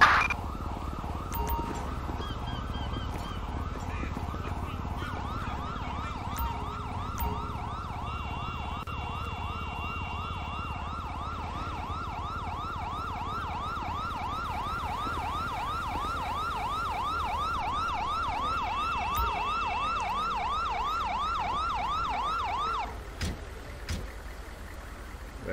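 An ambulance siren wails in GTA 5 at a Maze Bank Arena bank-heist scene, a rapid repeating yelp cycling steadily for over twenty seconds before cutting off abruptly, with other sirens faintly behind.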